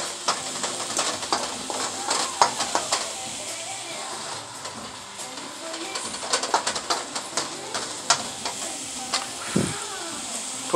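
Shrimp, callaloo and smoked turkey stir-fry in a hot pan with a constant close sizzle and crackle, broken by scraping and clatter from stirring.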